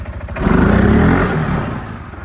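A CFMOTO CForce 520L ATV engine revs up close, rising into a strong buzzing drone before easing off slightly, alone with no talk.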